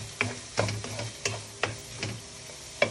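Shrimp is sautéed in a home kitchen pan while a utensil scrapes and stirs in a regular rhythm, with sharp clinks over a soft sizzle and no voices.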